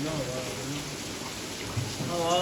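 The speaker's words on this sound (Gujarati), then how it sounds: "બહાર તો વરસાદ ચાલુ હો તમે જોવે વરસાદ ચાલુ" Steady hiss of rain falling outside in a village, with a person talking over it nearby.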